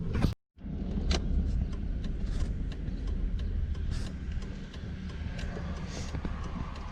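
A Chevrolet Avalanche pickup truck in faulty condition drives along, giving a steady, fairly quiet engine and road drone with scattered ticks and clicks. There is no speech.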